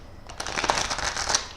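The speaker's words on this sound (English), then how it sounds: "I'm going to shuffle 3 traditional times" Tarot cards being shuffled by hand, a soft, steady papery riffling and rustling that swells after a quiet start and carries on close by without talk.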